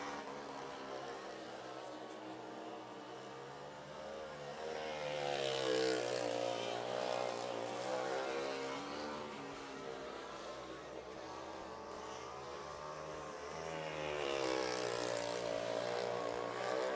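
Race car engines roar past at a raceway as the green flag flies, their pitch swelling and fading as the cars speed around the track, then rising again with the next pass.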